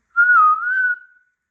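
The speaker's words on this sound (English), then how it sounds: "or if I whistle" A person whistling indoors, one short clear tone that dips and rises again over about a second, loud and alone.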